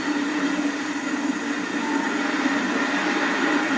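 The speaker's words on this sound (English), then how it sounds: "the special draws into Klerksdorp for the first of the scheduled locomotive changes" The Blue Train special, hauled by a Class 16E locomotive, draws into Klerksdorp station with a loud, steady rumble of rolling stock and no voices.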